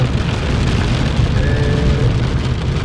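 Rain falls steadily on a moving Subaru Legacy B4 STI S402, a dense close hiss of drops on the car over a low road and engine rumble, with no talking.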